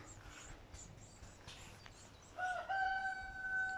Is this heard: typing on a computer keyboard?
no